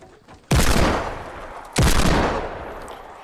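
Two loud, sharp gunshots from a gun in the PS4 video game Fortnite, roughly a second and a quarter apart, each leaving a long decaying tail, with no talking.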